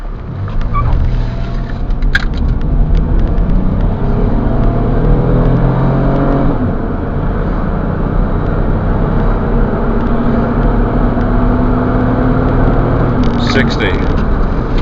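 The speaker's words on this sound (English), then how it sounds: "we'll start off with the 0 to 60 test" A 2001 Chrysler Grand Voyager CRD Limited minivan's engine revs and accelerates hard from 0 to 60, its pitch climbing steadily with a gear change partway through, loud and continuous throughout.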